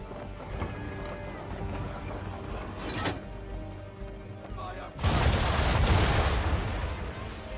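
Ship cannons firing during a naval battle in the video game Assassin's Creed III, a heavy burst of booming gunfire erupting near the end, preceded by rumbling battle noise and scattered shots.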